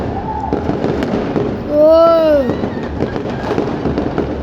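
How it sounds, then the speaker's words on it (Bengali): New Year firecrackers and fireworks bang and crackle close and far, with a whistling rocket rising in pitch mid-way among scattered pops, under a brief voice. "অনেক পটকা ফুটতিছে মিনিটে মিনিটে।"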